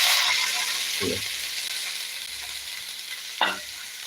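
Spinach going into a pan of frying onion and dried chili, giving a steady sizzle with a couple of soft stirring clatters, close and alone.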